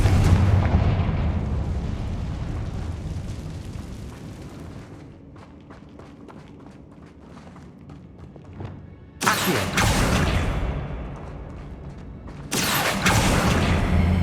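Confringo fire spell blasts in Hogwarts Legacy: a heavy booming burst that trails off into crackling rumble, followed by two sharp, loud explosive bursts of hissing noise later on, with no speech.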